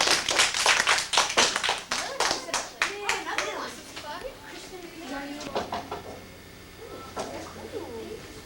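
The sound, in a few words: classroom children clapping for a visitor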